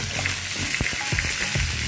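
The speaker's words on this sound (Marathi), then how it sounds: "आपण भरून घेतलेले हे जे वांगी आहेत ना ती सुद्धा आपल्याला त्यामध्ये हळूहळू ठेवायची आहे कढईमध्ये" Stuffed brinjals frying in a kadai with curry leaves, a steady close hiss of oil broken by a few brief clatters and stirs.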